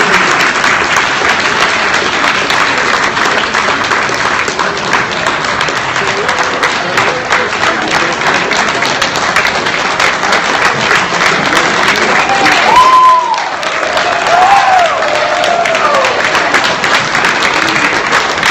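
Sustained audience applause at a university talk, dense clapping from a large hall that holds steady for many seconds, with a brief voice rising over it near the end before the clapping resumes.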